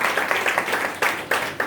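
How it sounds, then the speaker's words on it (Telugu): A church congregation at a Sunday worship service claps loudly together after a song, a dense burst of quick hand claps with a few sharper, stronger strikes standing out. "అయితే చప్పట్లో ఒకసారి గట్టిగా"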